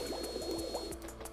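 Soft, steady splashing and bubbling water from swimming in the PlayStation 1 game Ape Escape, quiet and continuous with no talking.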